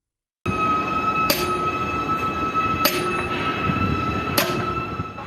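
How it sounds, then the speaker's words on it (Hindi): A train passes along a railway track in India, a steady rolling rumble with wheel squeal and three sharp metallic clangs spaced about a second and a half apart, loud and close with no talking. "लीजिए, एक और ट्रेन आ गई।"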